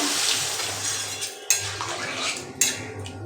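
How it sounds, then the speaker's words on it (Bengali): Water poured into a pan of sautéed spice masala for paneer and soyabean curry, with a few metallic clinks of utensils against the pan and steady splashing and running liquid in a home kitchen. "দেখুন গাইস দিয়ে দিয়েছি জল।"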